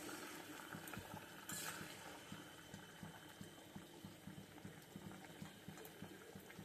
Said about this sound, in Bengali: ভাত ফুটছে।